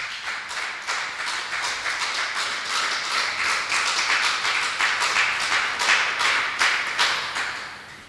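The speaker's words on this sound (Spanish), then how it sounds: "Un aplauso al Señor." A church congregation gives a long round of applause after a sermon: steady, dense clapping from many hands nearby, with a faintly rhythmic pulse running through it for about eight seconds.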